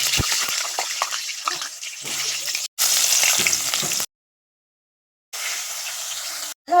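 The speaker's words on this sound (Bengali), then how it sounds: "এবার আলুগুলো প্রথমে একটু লাল করে ভেজে নেবো।" Potatoes sizzle loudly in hot oil in a kadai while being browned for a chicken curry. The steady, close frying hiss breaks off in short silent gaps.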